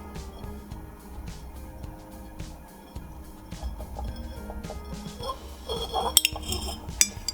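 Green glass bottle turned against a bottle cutter's blade: light scraping and scattered clinks that build toward a few sharper glassy ticks near the end, close and fairly quiet.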